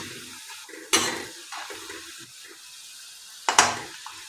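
Spiced peanuts with a little soda frying in hot oil, a soft steady sizzle broken by two sharp scraping clanks of a slotted spoon, close and moderately loud with no talking.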